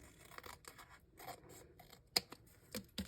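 Scissors snip through a paper craft tag in a quick, irregular series of close, crisp cuts and rustles, with a sharper snap near the end and no voices.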